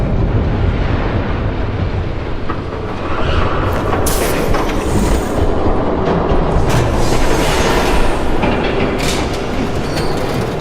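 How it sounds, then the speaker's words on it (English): A train in Batman: The Telltale Series rushes past loudly and steadily, a dense roaring rumble with clattering wheels and bursts of wind noise lasting throughout, with no voices. "There's a train coming."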